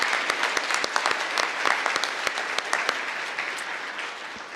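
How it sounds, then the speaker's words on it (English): A conference audience applauds, dense steady clapping from many hands in a large room, sustained and even before slowly easing off, with no speech. "just a quick round of applause for all of the hard work."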